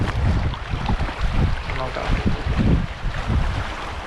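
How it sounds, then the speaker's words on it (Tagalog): Boat ride out to sea off Siruma, Camarines Sur, with a rumbling engine and wind buffeting the microphone, a continuous loud roar with water rushing against the hull. "Sakay na kaming bangka."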